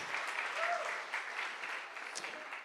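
Congregation in a church service applauding together, a steady wash of clapping filling the room with a few voices mixed in underneath.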